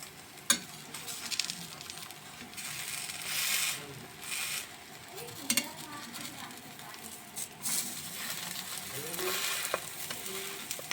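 A dabeli is flipped and fried in oil on a pan, making a soft, uneven sizzle with occasional light clinks and handling noises, fairly quiet and close.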